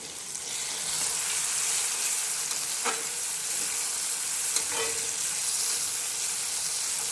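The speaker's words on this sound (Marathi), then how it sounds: "आता हे कांदा चांगला भाजू देते" Onion frying in a pan for a tomato and peanut chutney, a steady soft sizzle with faint stirring scrapes, close and alone without talk.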